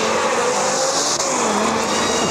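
Audi RS car using launch control on semi-slick tyres, its engine roaring loud and close as it pulls away at a steady, continuous high pitch.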